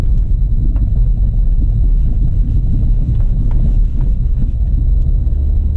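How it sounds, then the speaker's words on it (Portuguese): A Peugeot 307 climbs a hill in second gear, its engine a steady, loud low rumble heard from inside the car, with road and wind noise and no clear revving changes. "ele tá subindo em segunda aí"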